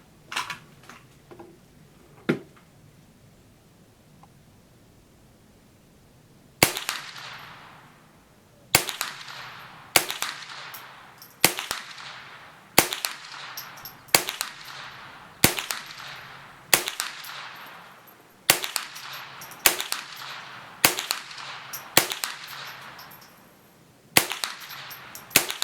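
A Remington Nylon 66 rifle fires a magazine of Federal rounds: after a few scattered clicks, a string of about fourteen sharp, loud cracks comes at a quick, slightly uneven pace, each with a short ringing tail, and no voices.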